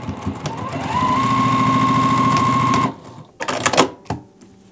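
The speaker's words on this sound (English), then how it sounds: "We're gonna sew down this open edge here using 1/4 inch seam allowance" A sewing machine stitches down the open edge of a quilted pillow, whirring steadily for about two seconds before stopping, followed by a few short mechanical clicks and handling sounds.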